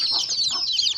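Newly hatched chicks with their hen, thin high peeping calls chirping rapidly and continuously close by, with a couple of lower clucks from the hen underneath.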